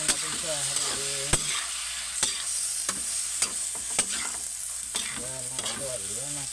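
Squid adobo with tomatoes is stirred in a frying pan, a spatula scraping and clicking in sharp irregular strokes over a steady sizzle while someone talks throughout.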